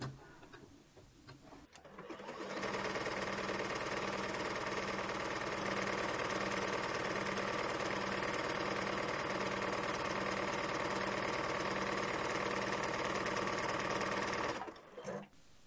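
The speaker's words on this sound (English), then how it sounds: "now I'm going to switch my stitch to a zigzag, and we are going to zigzag down the seam to finish it" A sewing machine runs a zigzag stitch down a skirt seam in one long, steady, close-up whir lasting about twelve seconds, starting after a moment of quiet handling and stopping abruptly at the end.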